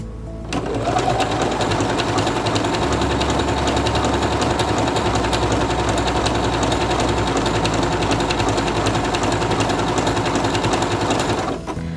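A Quantum Stylist 9960 sewing machine stitches fabric in one continuous, close, even whirr with a rapid mechanical rhythm, running alone for about eleven seconds.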